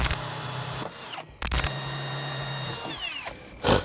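A power tool whirs in repeated short runs while driving screws into cast iron, stopping and restarting several times with a steady high whine, close and loud.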